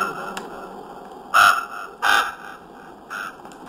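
Crows caw in three loud, separate calls spaced about a second apart over a quiet background, with no talk.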